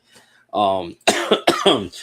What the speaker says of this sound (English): As you can hear, I still got a little bit of cough.